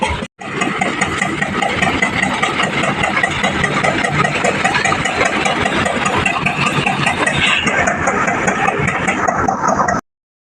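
Tractor engine running loud and close with an opener attachment fitted, a steady rattling mid-pitched drone that holds constant for the whole stretch before cutting off abruptly.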